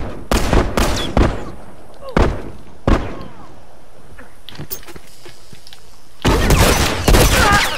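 Gunfire in The Last of Us multiplayer Supply Raid match: several sharp, loud shots in uneven bursts, with a dense volley of shots at the end.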